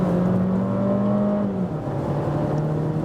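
Skoda Kamiq 1.5 TSI engine in sport mode, a steady, close engine drone that rises in pitch, then drops and settles, with no talking.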